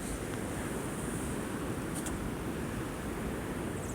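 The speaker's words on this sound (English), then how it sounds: "This is so windy." Strong wind roaring through a snowy blizzard outdoors, a steady broadband rush with buffeting against the microphone, continuous and loud for the whole stretch with no talking.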